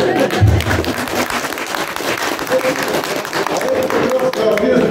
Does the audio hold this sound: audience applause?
yes